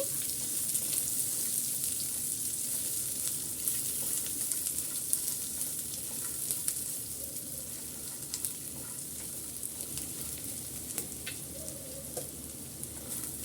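Roasted peanuts and onions fry together in a pan, producing a low continuous sizzle with faint occasional stirring scrapes, quiet and steady throughout without speech.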